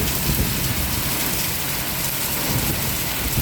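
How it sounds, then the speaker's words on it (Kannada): A downpour roars without pause in Ranebennur, Haveri, thick and loud, with countless drops drumming on surfaces nearby and coconut trees swaying. "ಮಸ್ತ್ ಮಳೆ ಬರತೈತಿ."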